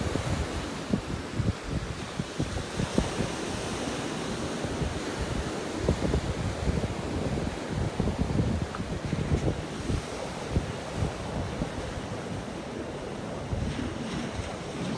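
Ocean surf rolls in steadily at the beach by Naples Pier as the tide comes up, a continuous loud wash of breaking waves with gusting wind noise over the microphone.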